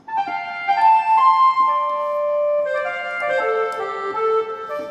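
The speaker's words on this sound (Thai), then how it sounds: "คาริเนตก็มีเนาะ" A Kurtzman SV800 keyboard's clarinet preset plays a short, clear melodic phrase of single woody notes stepping up and down, close and solo without talk.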